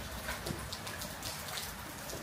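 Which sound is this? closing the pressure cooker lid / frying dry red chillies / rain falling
rain falling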